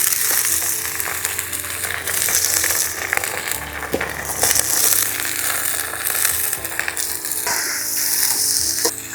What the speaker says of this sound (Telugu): ఉల్లిగడ్డలు పండు వేగినాయి.